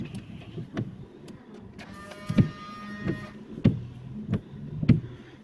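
The windscreen wiper linkage on a Fiat Doblo runs with the ignition on and the bonnet closed, making a steady series of muffled thumps about every half second over a soft electric motor whine.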